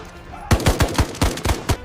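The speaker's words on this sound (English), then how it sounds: "The sharp, cracking reports of simulated gunshots echo violently against the imposing, high canyon rock walls." Simulated gunshots echo off high canyon rock walls in a desert combat training exercise, about eight sharp, evenly spaced cracks in a quick burst, each followed by a short ringing reflection, loud and near.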